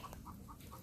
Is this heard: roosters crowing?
yes